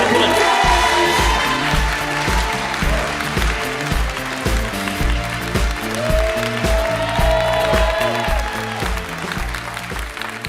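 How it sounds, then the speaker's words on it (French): A live comedy audience claps loudly and continuously for a comedian taking the stage, a dense wash of many hands with faint cheering and a steady rhythmic beat under it. "On peut l'applaudir bien fort"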